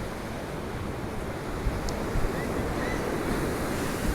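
Surf and gusting wind at Blackpool seafront at high tide, a steady broadband roar of breaking waves with wind buffeting the microphone, fairly loud and continuous with no talk.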